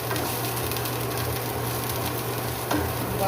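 Garlic sautéing in a hot pan while cooking adobong sitaw gives a steady, close sizzle with stirring that continues throughout, with no talking.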